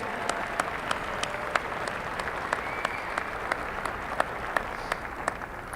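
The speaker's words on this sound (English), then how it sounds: "Let's have a big hand for Maggie." A gala audience applauds for Maggie at her table: dense, steady clapping from many hands fills the room, with a few sharper claps standing out, continuous throughout.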